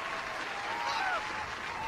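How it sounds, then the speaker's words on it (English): Applause in a GTA NoPixel roleplay scene, a faint, continuous wash of clapping sitting low under a brief voice and a thin whistling tone. "Hey, do the applause for him."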